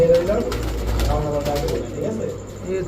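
A pouter pigeon coos in low, soft bursts close by, while someone talks over it.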